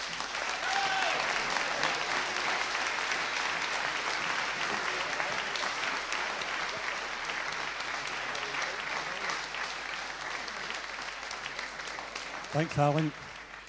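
An audience at a Scottish Socialist Party conference applauds after a speech, loud sustained clapping filling the hall for most of the stretch, with a brief spoken thanks and a voice emerging near the end.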